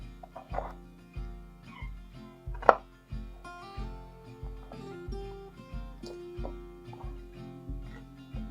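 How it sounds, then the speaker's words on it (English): Skinny carrots are chopped into chunks on a cutting board for a stew, a regular series of crisp knife thuds about twice a second, close and clear, with a few faint background noises. "Now it's time for the carrots. I'm going to do the same thing. Nice chunks."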